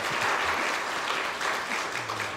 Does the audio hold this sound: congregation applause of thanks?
yes